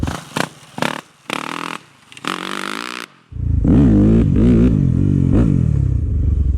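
Yamaha WR250F dirt bike engine revved in several short close blips, then held into a loud sustained rumbling drone as the throttle is opened, with no talk.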